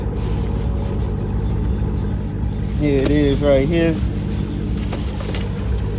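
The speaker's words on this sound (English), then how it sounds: "so that's when y'all hear the car running." A Dodge Charger Hellcat engine runs steadily with a low, even rumble close by, while someone speaks briefly over it.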